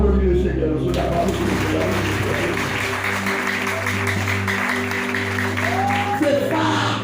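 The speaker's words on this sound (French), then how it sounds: "Applaudis le Seigneur" Church congregation applauding during a sermon, a dense continuous clatter of clapping with shouts and voices mixed in, loud and close, while a sustained tone hums underneath.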